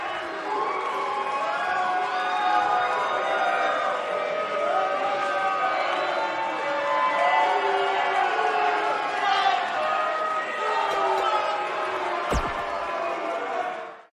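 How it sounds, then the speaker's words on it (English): A fired-up arena crowd in the WWE 2K19 wrestling game cheers and roars continuously, with a commentator's voice talking over the steady noise and a sharp impact thud near the end. "boy, is this crowd fired up"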